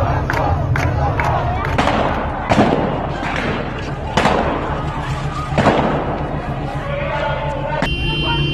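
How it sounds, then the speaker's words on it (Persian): Gunfire during a street protest in Iran over soaring food prices, sharp cracks and bangs bursting over a loud, shouting crowd with voices throughout. "تیراندازی دارن تیر میزنن."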